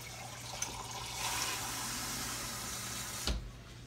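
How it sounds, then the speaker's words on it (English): Water runs steadily into a cooking pot for rice, a continuous low splashing fill that lasts several seconds before stopping with a brief clunk at the end. "So that means I'm gonna put 4 cups of water."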